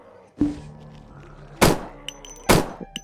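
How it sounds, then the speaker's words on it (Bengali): Gunfire in the horror video game Endless Nightmare: three sharp, close shots spaced about a second apart, with a soft thump first and then two louder cracks, followed by faint clicks between them. "আমরা এখান থেকে ফায়ার করব"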